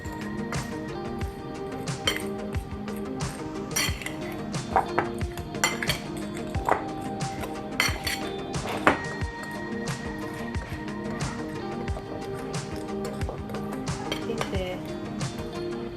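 Carrot cake batter with a pinch of salt is stirred in a bowl, a steady run of clinks and scrapes from a utensil against the sides, close and moderately loud, with background music and no talking.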